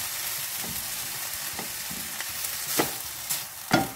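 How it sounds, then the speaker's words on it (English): Onions and peppers frying in a pan for quesadillas, with a steady close sizzle and a utensil stirring and scraping, giving occasional sharper clinks toward the end. "So you just kind of keep stirring until your onion is translucent."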